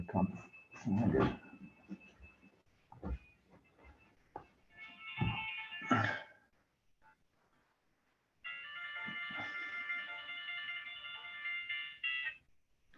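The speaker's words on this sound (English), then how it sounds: "my telephone is ringing" A telephone ringtone plays steady, continuous electronic tones for about four seconds during a talk on terracotta cladding. Scattered rustling and a voice come before it.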